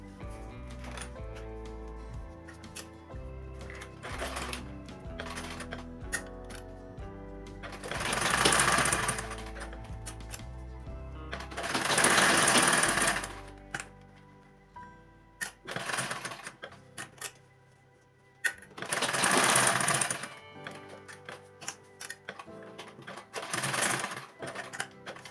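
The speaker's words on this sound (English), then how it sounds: "I'm going to start sewing by half an inch all around the pocket" Sewing machine stitching around the pocket of a fabric shoulder bag, several loud close bursts of fast, steady needle chatter separated by quiet pauses and handling sounds, with soft background music.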